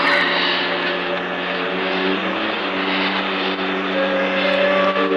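Steady, loud engine drone inside an airliner cabin in flight, a continuous broadband roar with sustained tonal hum running unbroken throughout.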